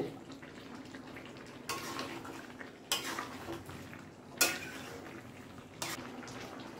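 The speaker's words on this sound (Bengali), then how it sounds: "এটাকে নাড়িয়ে নিলাম আবার আলুটা দেওয়ার পর" Potatoes are stirred in a cooking pan for a spicy dish, with four separate scraping strokes of a spoon against the metal over a soft, steady background hiss.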